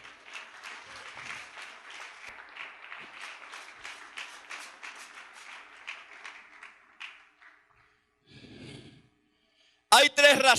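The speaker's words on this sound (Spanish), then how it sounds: "Aplauda a Jesucristo." A church congregation applauds during a Spanish-language sermon on spiritual warfare, with sustained, fairly faint clapping that tapers off, followed by a short vocal sound and then a loud burst at the end.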